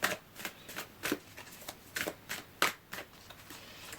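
Tarot-style oracle cards being shuffled by hand, heard as a quick run of close, crisp papery riffles and slaps in an even rhythm, with no talking.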